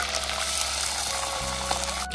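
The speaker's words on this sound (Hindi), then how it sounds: "अब डालेंगे ये चिकन तलने के लिए" Chicken being fried in hot oil produces a steady, close sizzle and bubbling hiss that holds at an even level throughout.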